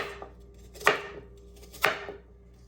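A knife cuts apples into cubes on a cutting board, two sharp, separate chops about a second apart over quiet kitchen background.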